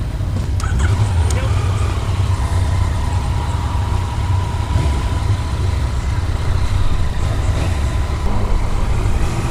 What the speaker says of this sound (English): Out on a demo ride, Laconia, New Hampshire, on a 2016 Yamaha FJ09